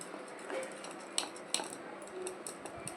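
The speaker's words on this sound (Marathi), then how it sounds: "सँडविचचं बॅटर मिक्स करते." A spoon mixing thick sandwich batter made with yogurt in a bowl, with soft wet stirring and a few sharp clinks of the spoon against the rim.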